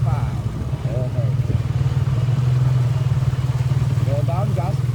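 A big bike motorcycle engine thrums steadily in a low, loud, near pulse during rider training, a voice talking over it at the start and near the end.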